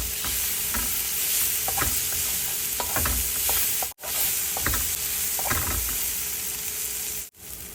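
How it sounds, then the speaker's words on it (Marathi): Finely chopped tomato sautés with tindora in a pan, a dense steady sizzle with repeated scraping stirs from a spatula, close and fairly loud, with two brief silent cuts. "बारीक चिरलेला टोमॅटो घालूया या ठिकाणी एक टोमॅटो मी घातलेला आहे आणि हा छानपैकी परतून घेऊया"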